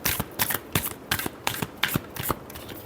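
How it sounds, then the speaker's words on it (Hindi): Tarot cards being shuffled in a quick run of about a dozen crisp riffling bursts, close and clear, with no voice over them. "last shuffle"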